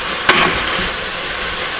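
Ground beef mince with chili mixed in, cooking in a pan for cottage pie: one brief scrape of stirring near the start, then a steady soft sizzle to the end.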